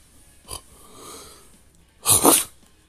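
A single loud, breathy sneeze bursts out near the end, after a faint short sniff and some quiet breathing.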